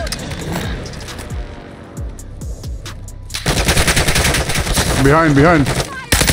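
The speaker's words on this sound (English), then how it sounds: "Somebody else is shooting." Rapid gunfire crackles through a video game shootout, bursts of shots stacking loud and close over a steady engine-like rumble while a voice calls out briefly.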